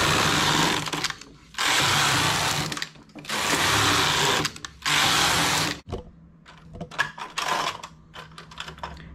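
Knitting machine carriage pushed across the bed to knit rows of a lace sweater, loud whooshing rattling passes in three or four long sweeps, then quieter clicks and handling noises.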